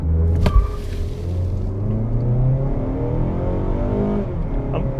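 Turbocharged 2.5-liter Subaru Crosstrek accelerating hard from a standstill in a 0-60 run, engine note climbing through rising sweeps with a quick shift and a pull that continues loud and close from inside the cabin.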